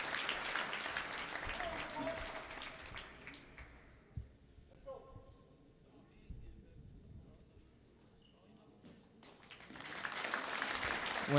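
Applause at a high school wrestling match between Oak Creek and Kenosha Bradford, with clapping at the start that fades into quieter crowd murmur before swelling again toward the end.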